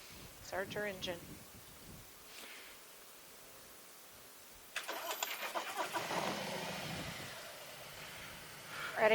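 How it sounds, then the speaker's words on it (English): Motorcycle engine starting on a Maine touring trip, a crank and catch midway that settles into a running idle after brief talk at the start and wind noise. "Start your engine."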